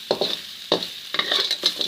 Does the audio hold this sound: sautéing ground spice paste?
yes